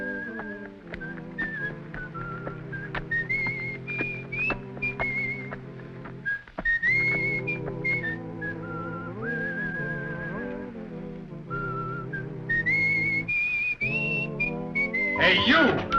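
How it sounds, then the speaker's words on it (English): Someone whistles a meandering tune, clear and fairly close, with a few brief pauses between phrases. "You the guy that was whistling?"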